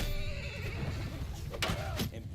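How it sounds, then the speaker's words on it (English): An imperial heavy horse in a kingdom-battle video game neighs in a loud whinny over clattering battle noise, with a couple of sharp bursts near the end. "Imperial heavy horse."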